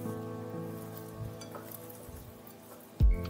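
Bell peppers sizzling gently in a little refined oil as they are tossed together, a soft continuous frying hiss with light stirring scrapes, ending in a brief low thump near the close.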